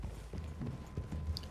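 Horse hooves walking in Red Dead Redemption 2, several soft clip-clop steps at an easy irregular pace, close by over faint ambient background with no talking.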